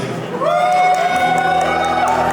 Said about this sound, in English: Like a louder cheer, guys.